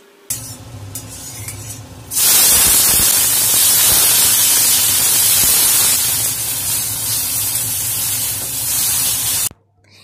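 Cut okra frying in a pan, a loud, steady sizzling hiss that bursts in after a quieter start and holds without a break until it cuts off near the end.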